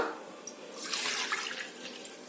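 Plain water pours steadily into a metal kadai while making wheat flour noodles, a bright splashing hiss that swells and then settles, close and alone.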